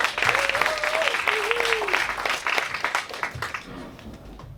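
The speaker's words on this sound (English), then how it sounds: "round of applause for Tory." A pub audience claps for a speaker, with a brief burst of applause mixed with whoops and voices that fades after a few seconds.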